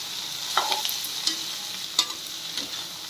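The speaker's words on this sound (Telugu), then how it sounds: "వీటిని కలిపి బాగా ఫ్రై చేసుకోవడమే." Ivy gourd (dondakaya) stir-fried in a pan, a steady soft sizzle broken by a few sharp scrapes and clatters of stirring at close range, with no talk.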